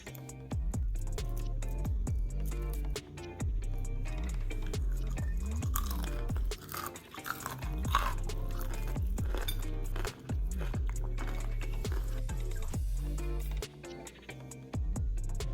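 Close, crisp crunching of someone chewing a crunchy vegan chicken nugget, with intermittent clinks of dishes and a steady low hum behind.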